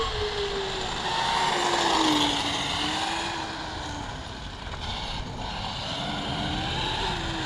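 A Traxxas X-Maxx RC monster truck runs along a track on cool tarmac, its electric motor whining steadily and rising and falling in pitch as it accelerates, with continuous tyre and drivetrain noise, moderately near and with no talking.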